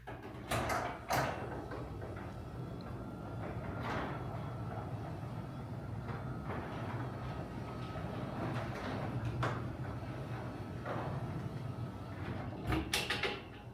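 A door fitted with standard rollers and hinges runs along its track, a continuous rumbling roll with scattered clacks and squeaks near the start and end, fairly quiet and heard alone.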